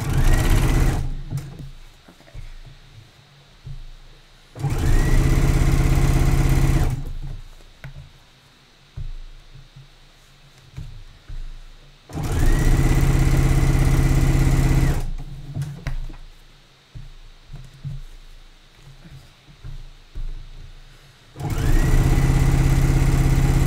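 A sewing machine top stitches a stretchy swimsuit in four loud, sustained runs of motor whir lasting a few seconds each, broken by quieter gaps with faint handling noises.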